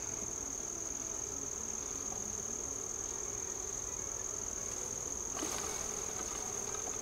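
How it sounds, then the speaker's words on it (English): A hornet buzzing among beehive frames during a bee barn inspection, a steady insect drone with a sustained high whine running throughout, fairly close, with a brief louder rustle near the end. "Oh, there's a hornet."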